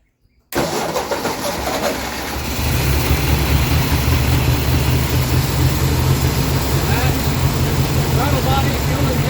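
A 1953 Golden Jubilee tractor fitted with Sniper EFI throttle body fuel injection starts up and settles into a loud, steady idle, its low rumble continuing evenly for several seconds close to the microphone.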